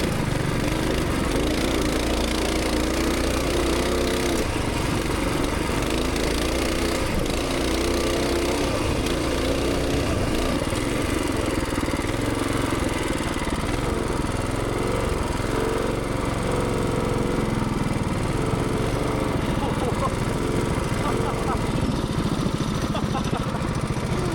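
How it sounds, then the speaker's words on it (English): A small engine drones steadily and loudly throughout, revving continuously at a rough, buzzing pitch on a camping trip, with voices talking faintly beneath it. "you have to like rev the engine up to get the light to turn on"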